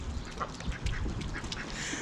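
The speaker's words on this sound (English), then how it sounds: "He's such an adorable little duck." A small duck quacks several times in quick, soft calls near the microphone, with faint outdoor background noise.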